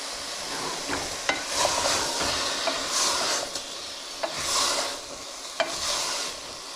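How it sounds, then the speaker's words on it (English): A pot of veal stew with carrots, celery, broth and wine is stirred steadily over a soft simmering sizzle, with a few sharp utensil knocks against the pot and no talking. "Let's stir that up a little more."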